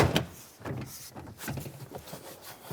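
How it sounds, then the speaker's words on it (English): Plastic clips pop loose as a door trim panel is pried off a Toyota Sienna sliding door, with a sharp snap at the start followed by softer rubbing, knocking and creaking of the panel. "Pull it and pop all of the clips that are holding this onto the door."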